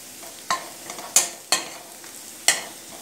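Squid for koonthal masala sautés in a pan with a soft continuous sizzle, broken by four sharp stirring scrapes spaced about a second apart, close-up with no talking.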